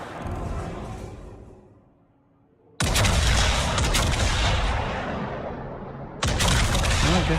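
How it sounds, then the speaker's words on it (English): The cruiser Rio firing high-explosive shells in World of Warships. Two thunderous broadside blasts, each hitting suddenly and rolling on as a long roaring decay, follow a fading rumble. "the Rio shooting HE again"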